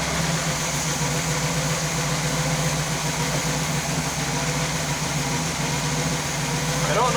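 A big block V8 in an abandoned 1966 Chevy Biscayne idles steadily at about 1,000 RPM, a constant low, even rumble with a faint mechanical whir, heard close and continuous.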